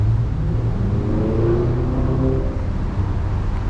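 Road traffic rolls past near a busy intersection, a loud, continuous rumble of car engines and tyres with shifting revving tones throughout.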